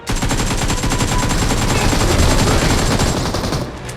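Rapid automatic gunfire in a mobile shooting video game, a loud, dense stream of shots running almost without break for about three and a half seconds, with no talk over it.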